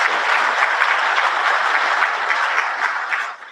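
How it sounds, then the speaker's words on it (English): Sustained audience applause for artists at a presidential address to an ICT association in Zambia, dense and steady clapping from a large crowd throughout, easing slightly at the end, with no voices over it. "May we clap for our artists."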